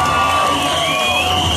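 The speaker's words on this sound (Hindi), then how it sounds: "भूषण कुमार जी के लिए जोरदार तालियां हो जाएं।" Cheering crowd at a film trailer launch press conference in Mumbai, a sustained roar of voices and whoops with tonal whistles or shouts over it, loud and continuous.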